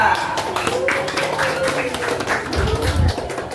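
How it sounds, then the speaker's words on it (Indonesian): Classroom group of students clapping for a presenting team, scattered taps and claps with voices chattering over them throughout. "Tepuk tangan untuk kelompok 2."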